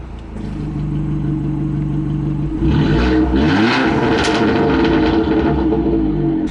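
A 250 BHP Abarth 500 with a Power Motive valved exhaust, valve open, idles with a low rumble and then revs hard into a louder, raspier roar that rises and falls, close and loud.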